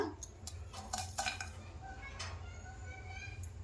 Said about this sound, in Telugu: ఇవన్నీ మంచిగా వేయించుకోవాలండి. స్టవ్ చిన్నగా పెట్టి దూరగా వేయించుకోవాలి.